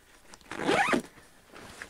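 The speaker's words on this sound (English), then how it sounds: "We'll just zip that back up." The zipper on an UruAV UR7 FPV backpack is pulled closed in one quick, close, crisp zip lasting about half a second, then a softer rustle follows.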